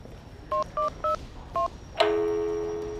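Four short telephone keypad tones beep in quick succession, followed by a sustained ringing tone on the line.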